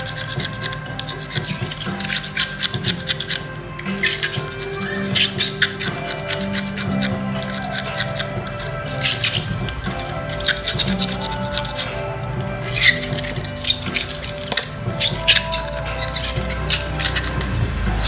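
Continuous scraping and rasping on the magnetic roller shaft of a Toshiba copier (models 723 to 857), a close, steady scratching stroke repeated over and over without pause.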